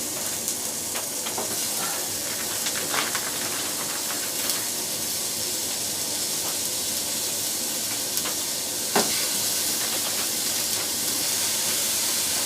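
Deer sausage sizzles steadily in a hot pan, a constant crackling hiss with occasional louder pops.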